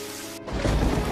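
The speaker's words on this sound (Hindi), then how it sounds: "हे भगवान, इतनी तेज बारिश।" Heavy rain with thunder in an animated farm story, a sudden loud downpour bursting in after a brief hush and roaring steadily close by, with a deep rumble underneath.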